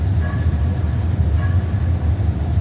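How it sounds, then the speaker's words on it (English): A train rumbles past below a seven-story outdoor parking garage, a loud steady low-pitched roar with faint clicking, heard from above and continuous for the whole stretch. "There's the train going by down there."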